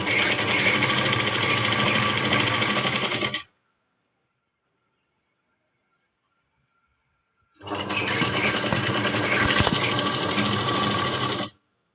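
Sewing machine stitching chudidar pant fabric, two loud, close bursts of fast steady whirring and needle clatter, each several seconds long, separated by about four seconds of silence.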